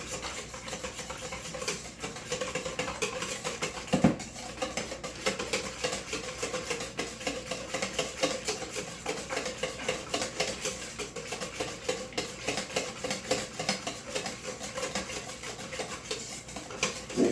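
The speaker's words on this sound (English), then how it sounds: "I'm gonna whisk it all together." A whisk scrapes and rubs quietly through crab cake mixture in a bowl, a faint, steady rhythmic scraping that goes on without pause and is joined by one small clink partway through.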